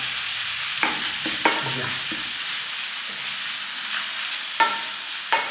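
A meat filling for taquitos sizzles in a hot pan, with a steady frying hiss and several distinct scraping stirs; a voice briefly speaks.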